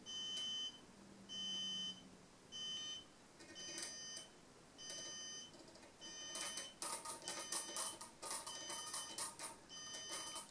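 Electronic beeps from a Chainlink GPS tracker set to micro power mode near a model aircraft autopilot, faint repeated short tones in a regular pattern, then a denser burst of buzzy interference later on, with no talk.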